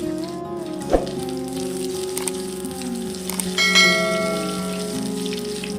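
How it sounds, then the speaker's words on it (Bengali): Oil sizzles and crackles steadily as pomfret fries on medium flame in a pan, with a few sharper pops and spatters, close up and without talk. "এই মাছটাকে আমাদের মিডিয়াম ফ্লেমে ভেজে নিতে হবে"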